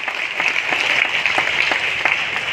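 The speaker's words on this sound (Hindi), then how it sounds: "गांव के लोगों के लिए तालियां बजाओ सबसे ज्यादा" A crowd at a national Adivasi council gathering in Nagpur claps for the village people, producing a dense, steady patter of applause that stays even and moderately loud throughout.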